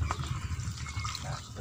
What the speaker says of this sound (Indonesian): kita tinggal langsung siram-siramkan saja ke media tanam teman-teman ya, seperti ini